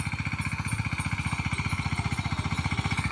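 A mini tractor works a farm field with a fast, even engine chug that pulses at a steady rhythm, loud and close, with no speech.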